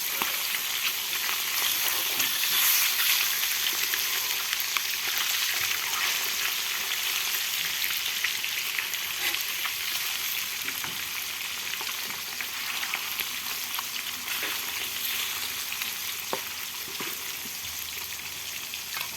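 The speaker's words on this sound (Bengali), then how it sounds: "বেশি ভাজবো না, হালকা করে ভাজবো" Padma river rohu fish frying lightly in a pan, a continuous close hiss and crackle of hot oil holding steady for the whole stretch, with occasional sharper pops and no talk.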